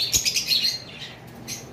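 Caged pet birds at a bird seller's shop chirp in quick, high tweets, a few close calls followed by fainter chirps, with no talk over them.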